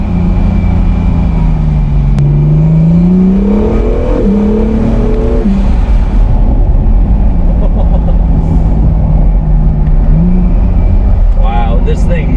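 Engine and turbos of a 2019 Acura NSX mid-engine hybrid supercar heard from inside while driving, a loud steady drone with rising and falling engine tones, under continuous talking.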